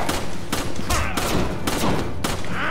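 Rapid bursts of gunfire in the video game Resident Evil 5 crack out in quick volleys, loud and close, with brief pauses between the barrages.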